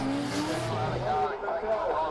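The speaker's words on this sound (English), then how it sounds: "2JZ powered 180SX up against V8 powered R32" At a drifting grand prix round in Perth, a 2JZ-powered Nissan 180SX and a V8-powered R32 run on Achilles 123S tyres, with engine roar and tyre squeal sounding at a distance under a commentator's voice.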